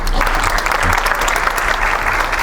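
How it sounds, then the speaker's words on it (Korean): An audience at a university guest lecture claps to welcome the speaker, dense and loud applause that continues steadily throughout. "부탁드리는 박수로 맞아주시기 바랍니다."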